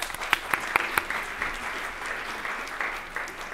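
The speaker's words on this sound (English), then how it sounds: "Little golf clap." Polite golf clap from the audience at a spring sports awards ceremony, a few crisp, scattered hand claps that settle into a soft, even patter of light applause.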